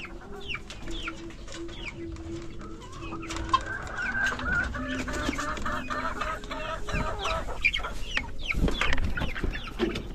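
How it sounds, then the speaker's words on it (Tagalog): Small young chickens cluck and chirp continuously at close range on a backyard egg-producing farm, with overlapping calls from several birds over a steady outdoor background and no talking. "masisigla na ng lahat ng aking mga malilit na manok"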